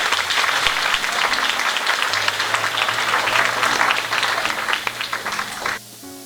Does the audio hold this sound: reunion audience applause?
yes